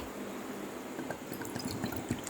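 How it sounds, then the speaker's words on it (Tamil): Water poured from a tumbler into rice in a pressure cooker pot for tomato rice, a steady splashing pour with small trickles and drips, close and fairly quiet, no talking. "4 டம்ளர் தண்ணி ஊற்றுறேன்."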